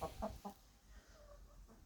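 Several short clucks from chickens sunning themselves near the start, then quieter low farmyard background with faint scattered bird sounds.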